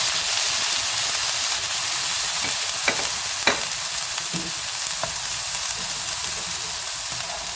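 Blended onion and salted fermented shrimp stir-frying in a pan for a Cheongyang chili dish, a constant bright sizzle and hiss close up, broken by a few sharp spatula taps against the pan, no voices.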